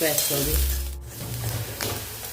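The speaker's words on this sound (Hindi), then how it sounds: "प्याज को हमने सुनहरा होने तक भून लिया है।" Onions fry until golden in a pan for a dhaba-style cauliflower and potato dish, giving a steady, close sizzle with a few stirring sounds.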